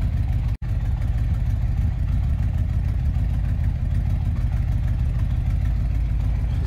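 A V8 Ford Transit van engine idles steadily and continuously at close range, a low throbbing drone with a brief dropout near the start.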